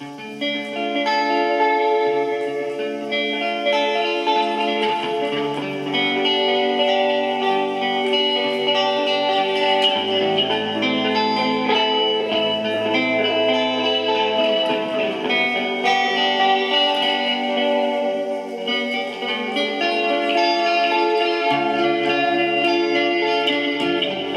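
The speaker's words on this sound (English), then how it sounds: "we can use the other one, which is basically only the echo." Vintage 1970s Roland RE-201 Space Echo tape echo effect processing a sustained, out-of-tune instrument, with dense repeating echoes smearing the tones into a steady, loud wash of layered harmonics throughout.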